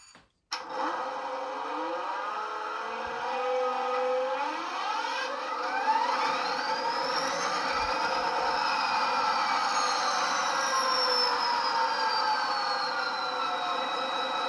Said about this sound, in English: and now the engine is coming back on.